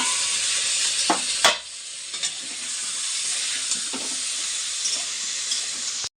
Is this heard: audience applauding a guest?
no